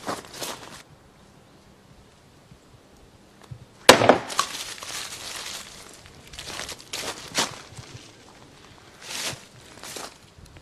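A pocket knife striking and cutting into a coconut, with a sharp crack followed by scattered knocks and scraping of hard shell, fairly faint against quiet room noise.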